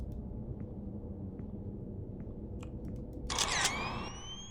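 A camera shutter fires once, a short bright burst trailing into rising electronic tones, in a horror video game. It rises briefly over a steady, droning low-pitched ambience.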